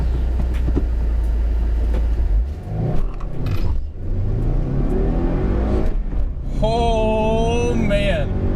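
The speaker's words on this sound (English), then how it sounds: "The car's coming." Subaru WRX passing by, a deep rumbling engine that swells and fades. A person talks over it near the end, and a high whistling tone appears late.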